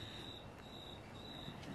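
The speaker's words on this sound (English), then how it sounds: "Crickets are coming out." Crickets chirp in a steady, continuous outdoor chorus, with a high repeating trill pulsing in regular bursts over faint background noise; no one speaks.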